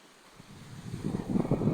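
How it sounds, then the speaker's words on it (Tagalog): Surf washing onto a shore in Negros Oriental, building from quiet into a steady rushing roar with some wind buffeting the microphone. "andito kami sa tabing dagat"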